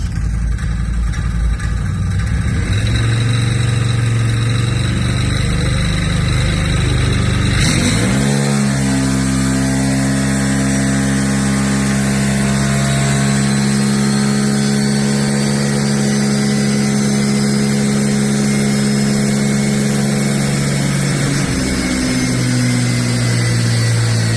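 A CFMOTO Z-Force 950 big-bore side-by-side with a sport clutch kit roars at high revs, then drops sharply to a lower, steady engine drone with audible harmonics, loud and close throughout.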